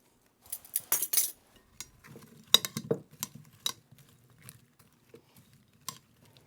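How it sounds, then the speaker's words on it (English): Cauliflower is tossed with oil and spice mix in a bowl, making sparse clinks and scraping knocks of a utensil against the dish that come in irregular bursts, close and fairly quiet, with long near-silent gaps. "And I'm going to do exactly the same thing with the cauliflower. Toss it with some oil."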